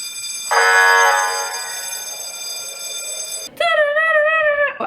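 A home security alarm goes off nearby, loud and tonal: a sustained electronic blare that fades, then switches abruptly to a warbling, siren-like wail.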